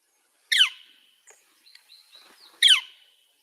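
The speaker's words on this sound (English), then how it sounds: "Bigger woodpecker, louder sound." A large woodpecker gives two loud, piercing single-note calls about two seconds apart, with softer chirps between them in an otherwise quiet setting.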